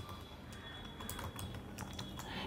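Rapid clicking keystrokes on a computer keyboard while typing HTML form code, close and steady, with no talking.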